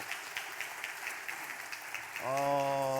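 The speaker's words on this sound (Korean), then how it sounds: "박수 한번 해주시고요" A congregation claps during a Sunday church service to welcome a new member, a light, rhythmic patter of hands at moderate distance, then a sustained voiced tone sounds over the tail of the clapping.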